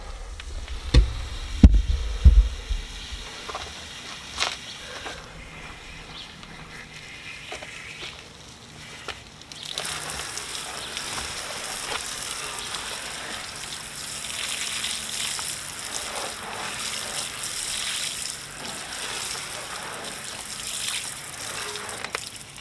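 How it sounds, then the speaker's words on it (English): Water sprays onto a car tyre to rinse off Gyeon tire cleaner, starting with a few knocks and faint splashes, then a steady close hiss of gushing water for the rest. "Just give that a rinse off."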